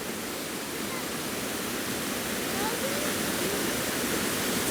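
Brandywine Falls in Cuyahoga Valley National Park roars as a steady, broad rush of falling water on a cold, icy day, continuous and fairly loud with no speech.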